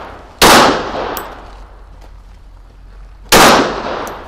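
Two loud, sharp gunshots a few seconds apart, fired at moving targets during vehicle combat training, each ringing out with a long decaying echo.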